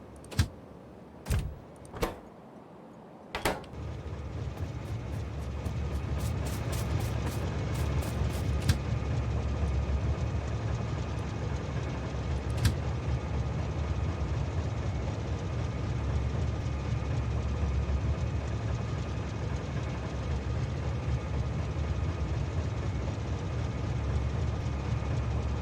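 A Factorio oil train runs as a steady, continuous rumble that fills most of the clip, preceded by a few sharp clicks and clanks near the start.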